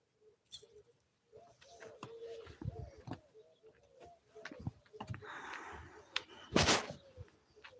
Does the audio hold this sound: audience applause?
no